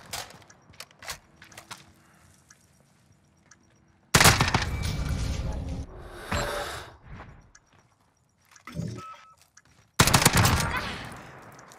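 Akimbo Sykov pistols firing in a video game: scattered single shots at first, then loud rapid-fire bursts in two long stretches broken by a short lull, with faint breathing and movement sounds in between.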